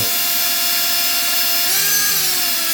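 A power drill with a mixing paddle whirs steadily, churning an epoxy skim and seal coat slurry for a bathroom remodel, a continuous loud motor whine with no talking.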